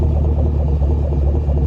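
A 2010 Chevrolet Camaro SS/RS V8 idles with a deep, mellow, even rumble, steady and close with no revving and no voices.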